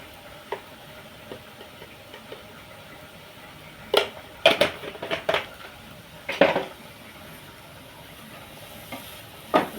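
Beetroot fry with turmeric and salt is stirred in a pan over a low sizzle, with clusters of sharp spatula scrapes and clanks against the metal between quieter stretches, close up and with no talking.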